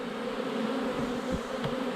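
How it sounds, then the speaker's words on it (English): Honey bees hum inside an opened hive during a colony split and queen install, a dense continuous drone that stays close and steady throughout, with a few faint knocks beneath it. "the workers and nurse bees currently in this colony will continue to feed her once Aduna's pheromones have dissipated."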